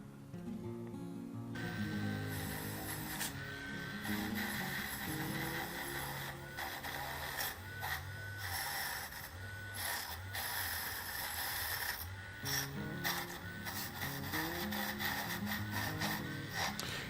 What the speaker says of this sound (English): Using a wire brush on the Dremel, I will remove the corrosion and the remaining paint.